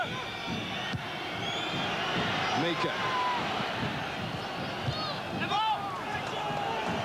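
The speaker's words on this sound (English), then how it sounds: "the crowd urging Queen's Park Rangers just to get the ball in the box" Football crowd at a Queens Park Rangers v Newcastle United match in 1994 urging Queens Park Rangers on: a steady roar of massed voices with scattered shouts and whistles, heard under continuous commentary.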